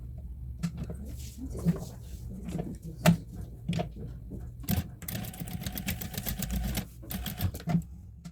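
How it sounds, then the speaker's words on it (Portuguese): Sewing machine stitching a safety seam along the edge of a zipper for a shoulder bag, heard as bursts of fast mechanical chattering with short pauses and small clicks between runs, moderately close. "vamos passar uma costurinha de segurança nessa beiradinha"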